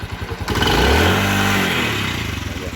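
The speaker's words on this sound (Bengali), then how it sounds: "এখন ইঞ্জিনের সাউন্ড" A used motorcycle engine runs close by, swelling into a brief throaty rev before settling back to a rapid, clattering idle pulse, loud and alone.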